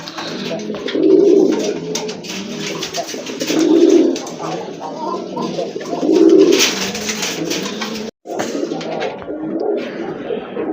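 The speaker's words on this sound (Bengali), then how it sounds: "বিগ সাইজের একটা নর কবুতর" A big male Iranian Gorra pigeon coos in three deep, rolling bursts spaced a few seconds apart, close and clear over faint surrounding noise.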